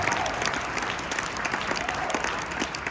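A concert audience applauds student jazz performers at an all-star jazz event, with sustained, dense crowd clapping that stays loud and even from start to finish.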